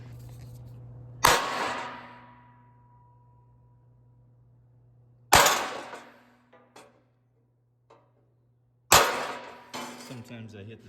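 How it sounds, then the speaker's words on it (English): A hammer drives a center punch to mark drill holes for mounting parts in a Scrambler motorcycle dash: three sharp, ringing metallic strikes spaced several seconds apart, each decaying quickly, with a few faint taps between and a low steady hum underneath. "Then I'll center punch them"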